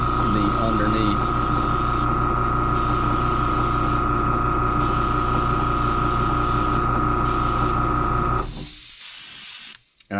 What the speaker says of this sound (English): I'm actually gonna spray it in a white